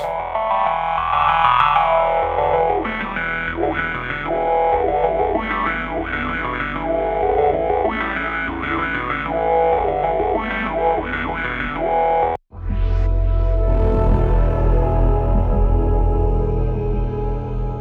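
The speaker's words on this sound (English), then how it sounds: "I created all the essential high-quality effects you can use." Synthesizer tones from the Ummet Ozcan Genesis Pro run continuously through heavy distortion and modulation effects, shifting in timbre, with a brief dropout near the end before a brighter, fuller section.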